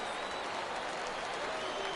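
Video game home crowd roars in a baseball stadium during an MLB 18 minor-league Altoona Curve game, with a steady, dense wall of cheering and clapping heard continuously throughout.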